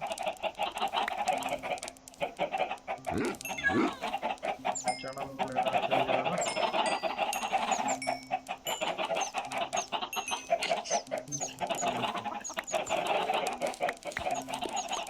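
Chickens in the Minecraft video game cluck over and over in a steady barnyard chatter, close and fairly loud, with a person speaking over the flock at times.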